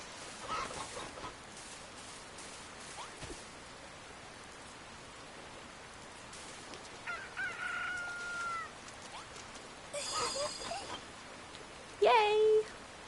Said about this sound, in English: Oh, another chicken.